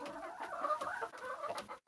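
Hens cluck softly in quick, uneven bursts, fairly close but quiet, with a short pause near the end.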